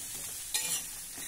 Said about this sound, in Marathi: मध्यम आचेवर आता हा कांदा जरा तांबूस होईपर्यंत आपण भाजून घेऊ।